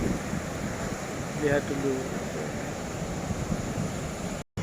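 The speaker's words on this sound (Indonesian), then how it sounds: "Di tengah laut ombaknya besar." Big ocean waves crash and wind rushes steadily on a rainy Gunung Kidul beach, a broad roaring wash close to the microphone with gusty noise, and a person briefly speaks over it.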